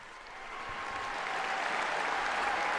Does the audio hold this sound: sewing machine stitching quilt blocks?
no